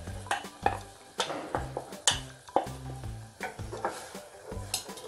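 Spoon stirring green gram kurma ingredients in a frying pan, a close run of repeated scraping strokes with a light sizzle underneath, loud and steady with no talk.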